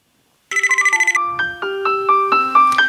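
Sharp's RoBoHoN, a small robot that works as a telephone, plays a bright electronic ringtone: a quick run of repeated chiming notes followed by a rising, stepped melody, loud and close with no talk.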